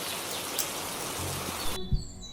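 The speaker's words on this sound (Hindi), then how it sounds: "और तभी बारिश होने लगती है" Steady rain falling in a cartoon moral story, a dense continuous patter that ends abruptly, with faint bird chirps and a thud just after it stops.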